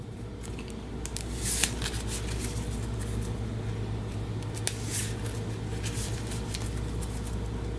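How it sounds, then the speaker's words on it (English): A tarot card deck is shuffled close by, giving a continuous papery riffling and soft flicking with a few sharper snaps, steady throughout with no talk. "So we'll give this a shuffle."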